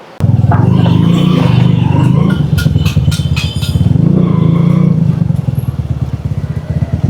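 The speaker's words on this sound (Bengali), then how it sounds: "এই তো বাইকটা এখন টেস্ট ড্রাইভ দিচ্ছি বাইকের সাউন্ডটা খুব ভালো লাগছে" A modified TVS Victor 100cc motorcycle engine idles and revs with a throaty, pulsing exhaust note, loud and close, holding steady for several seconds.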